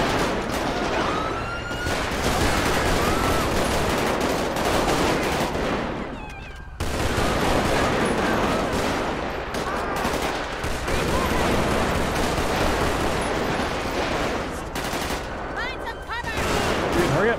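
Sustained gunfire from a police shootout in GTA V with the LSPDFR mod, rapid overlapping shots and bursts continuing throughout at close range, with radio chatter and voices mixed in and a brief lull partway.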